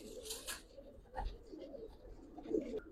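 Giribaz pigeons, coloured flying birds, coo in low throaty bursts that rise and fall several times, fairly close with light background stirring and no clear talk.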